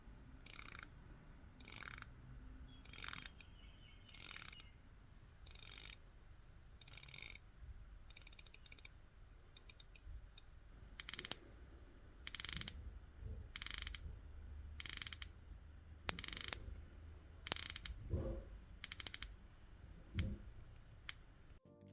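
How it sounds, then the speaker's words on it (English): Rotating dive watch bezels on a Seiko SPB453 and a Tudor Pelagos 39 turn in short bursts of crisp, rapid ratcheting clicks, about a dozen separate runs with quiet pauses between them. "Individually, their bezel actions are great, and I like how each of them feel"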